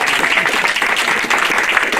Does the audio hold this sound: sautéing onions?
no